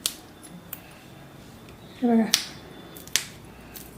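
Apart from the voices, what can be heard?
snapping tender shingri (radish pods) by hand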